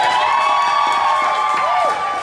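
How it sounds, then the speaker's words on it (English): Loud studio audience cheering and applauding at a comedy game show, whoops and shouts over dense clapping, with a few high voices rising above the crowd. "cheer and applaud"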